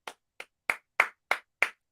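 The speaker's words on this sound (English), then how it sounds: "Clap it up." Six sharp, separate hand claps in an uneven rhythm, close and dry, with silence between each clap and no talking.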